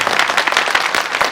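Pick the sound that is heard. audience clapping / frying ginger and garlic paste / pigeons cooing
audience clapping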